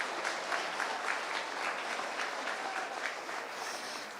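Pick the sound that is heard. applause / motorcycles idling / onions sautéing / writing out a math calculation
applause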